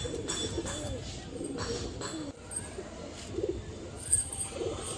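Pigeons coo softly in a loft, low repeated murmuring calls layered over each other with a few brighter chirps toward the end, steady and close.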